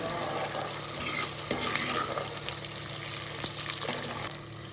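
Shallots and garlic cloves sautéing in a pan for a South Indian fish curry, a steady close sizzle with soft stirring scrapes and occasional clicks of a spoon against the pan.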